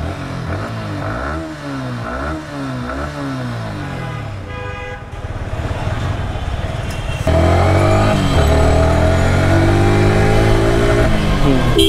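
A secondhand Yamaha R15M Indonesian-made sport motorcycle revs and accelerates through rising gear changes, its engine loud and close, with the pitch climbing and dropping between shifts and a brief horn-like tone partway through.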